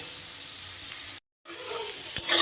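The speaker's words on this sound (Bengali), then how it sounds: "মোটামুটি একটু বেগুনগুলোকে আমি ভেজে নেব" Eggplant pieces fry in oil in a wok over high flame, giving a steady close sizzling hiss that cuts out briefly for a moment and then resumes with a few light scraping clicks.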